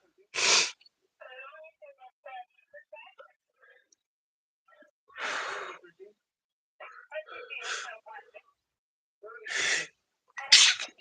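Several sharp sneezes burst out one after another, separated by quiet pauses with faint rustling and small clicks in between.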